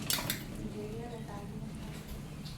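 Spoon clinks against a bowl as puffed rice (charmuri) is tossed with chilli powder, coconut oil and lemon juice, Mangalore style, with a few sharp clinks at the start and then soft rustling mixing under a faint voice.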